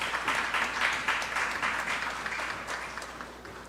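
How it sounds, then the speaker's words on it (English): Audience applause for candidates at a community conversation in a multi-purpose facility in Tobago, a dense round of clapping that starts strong and slowly fades over a few seconds. "Give them a lusty round of applause."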